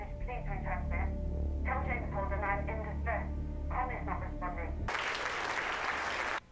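Applause in an episode of The Expanse: speech comes first, then a sudden dense burst of clapping that runs for under two seconds and stops sharply.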